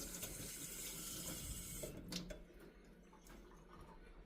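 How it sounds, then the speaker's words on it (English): Water runs from a kitchen sink faucet as hands are rinsed beneath it, a steady close splashing stream for a few seconds, followed by a few light clicks and thuds. "Let me rinse my hands over here."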